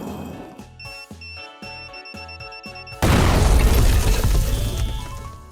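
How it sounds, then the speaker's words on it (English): Electrode uses Explosion in a Pokemon video game: a rhythmic electronic jingle of pulsing beats gives way at about three seconds to a loud, sustained roaring blast of noise that slowly fades. "Could you do me a favor real quick and go in there and use Explosion?"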